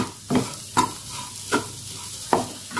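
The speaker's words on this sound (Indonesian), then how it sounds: "kita aduk rata" Leunca berries and basil leaves are stirred in a frying pan over a soft sizzle, with four distinct scraping strokes of the utensil spaced roughly evenly apart.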